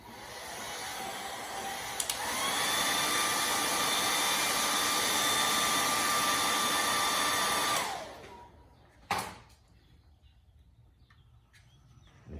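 A heat blower warms plastic headlight covers so they form around complex curves, a steady loud whooshing drone that runs unbroken for about six seconds, then cuts off, followed by a brief clunk and quiet.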